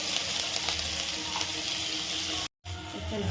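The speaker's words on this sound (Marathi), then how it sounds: "इथं तूप घेतलंय मी एक चमचा पालक टाकून घ्यायचा" Finely chopped spinach fries in a spoonful of ghee, a dense close hiss of sizzling broken by a brief total silence before it resumes.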